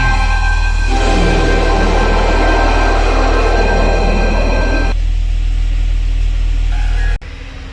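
Jaguar XJ6 engine running after sitting parked for eight years, a loud steady rumble close by with a rougher surge early on, settling to an even idle before cutting off abruptly near the end.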